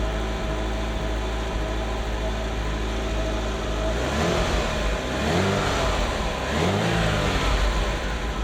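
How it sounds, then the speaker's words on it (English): A Ferrari Mondial engine runs steadily, then is revved twice in quick succession, each rise and fall of pitch clear and close over a continuous droning idle, with no voices. "Lovely sound of a Ferrari singing."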